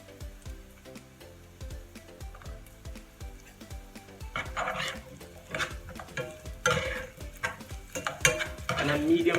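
Sliced ginger and onion stirred in a pan over medium to high heat, a close, scraping stir with irregular clinks that builds into a louder sizzle of frying.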